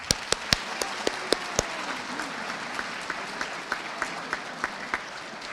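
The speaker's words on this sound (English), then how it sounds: "let's give Miss Bethany Lang another round of applause" A high school Color Day audience applauds, with scattered individual claps standing out sharply at first, then settling into a lighter, thinning round of clapping that fades toward the end.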